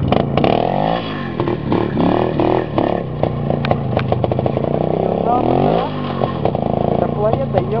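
An IZh motorcycle with a sidecar churns through forest mud, its engine roaring and revving unevenly up close, loud and rough with clattering, while a rider talks over it.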